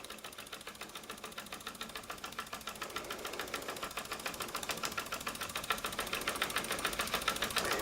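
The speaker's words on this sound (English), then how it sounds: "Miller Junior Engineer SE-100 with replacement beam and conrod. running like a dream." A Miller Junior Engineer SE-100 model steam engine, fitted with a replacement beam and conrod, runs steadily with a fast, even mechanical ticking and light chuffing that grows slightly louder, close up and alone.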